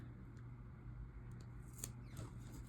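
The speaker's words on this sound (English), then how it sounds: "this is far better than some of the cut jobs that I've done with this" Scissors cutting through paper for a planner spread, producing a steady close-up rasp of soft snips and crinkles with a few sharper slices, with no talking.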